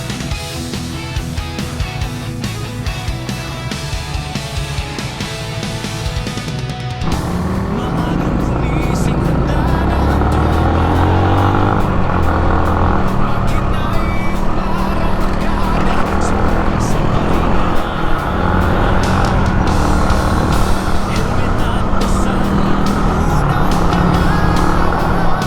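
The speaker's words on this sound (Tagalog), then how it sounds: "Ayan ang aking motor, dugyot." A motorcycle engine runs steadily on a Luzon loop ride in the Philippines, a loud continuous drone with wind roar, shifting to a rougher, fuller tone partway through.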